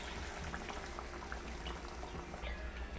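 Liquid bubbling and splashing in a pot of crab curry, a steady wet hiss with small pops throughout, fairly quiet and close, as a tumbler of water is poured in.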